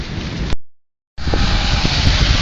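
Heavy rain pours down outdoors during a power outage, a loud dense wash of drops on surfaces that cuts out briefly into silence before resuming just as steady and strong.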